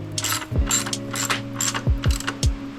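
A hand ratchet clicks in quick bursts while tightening bolts in an X pattern, with sharp metallic pawl ticks close by and faint mechanical clunks between strokes.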